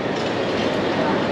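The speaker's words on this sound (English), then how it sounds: "That's our train over there." A train rumbles steadily at a station platform, a continuous close mechanical roar that fills the short moment.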